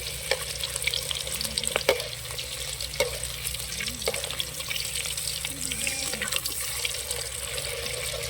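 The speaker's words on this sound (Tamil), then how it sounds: "எண்ணெய் ஊற வச்ச காடை இறக்கிறோம்" Oil-soaked quail pieces frying in hot oil for a Kaadai Manthi biryani, a steady broadband sizzle with occasional sharp crackles and pops, close and continuous with no talking.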